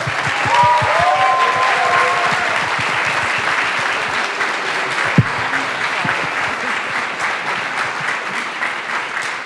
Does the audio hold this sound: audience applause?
yes